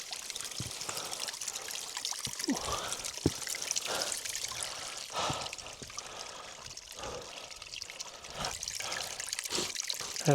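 Water trickling and pouring from a small mountain water source high on a ridge hike near Ben Cruachan, a steady wet babble heard close up with faint breathy noise around it.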